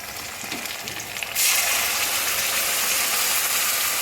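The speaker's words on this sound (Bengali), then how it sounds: "এই মশলার পেস্টটা আমি এতে দিয়ে দেবো" Spice paste hits hot oil and bursts into a loud, steady sizzle, the frying jumping in volume partway through and holding as a dense close hiss with no voices.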